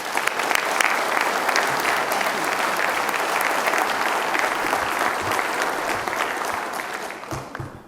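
Audience at a stamp show ceremony clapping, a sustained burst of dense applause from a large crowd lasting several seconds, fading slightly toward the end.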